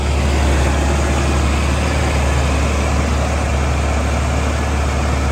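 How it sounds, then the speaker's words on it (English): A 1963 Chevy Corvair Monza Club Coupe engine idles steadily and close by, a constant low rumble with an even hum and no breaks or voices. "Idles down nice."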